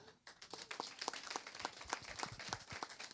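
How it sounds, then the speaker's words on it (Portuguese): An audience at a wealth-building seminar claps, quiet and somewhat distant, in a loose rhythm that builds after a brief silent start. "Uma salva de palmas para ele."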